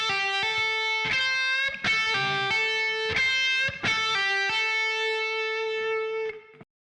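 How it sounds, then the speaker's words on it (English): A clean, bright electric guitar plays a short solo phrase of sustained notes linked by quarter-tone bends, pull-offs and hammer-ons, close and clear with no talking, ending in a held note that cuts off. "In the second section, you'll play in shape 2, adding quarter tone bends, pull-offs, and hammer-ons like this."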